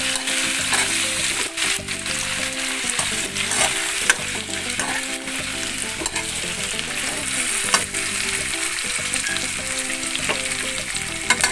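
Pork frying in a pan for pork steak, a loud steady sizzle with stirring and scraping clatter running throughout, no voices.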